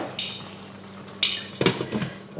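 A metal lid clatters onto a cooking pot of chicken blanquette with mushrooms, with a few sharp clanks and scraping knocks close by as the lid is swapped and settled.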